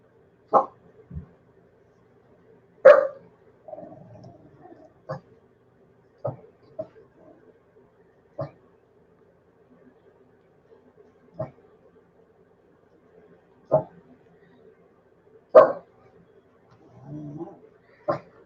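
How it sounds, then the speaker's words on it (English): A dog barks in sharp, isolated bursts, spaced irregularly over quiet background, with a few softer whines between barks. "I've got a barking dog here"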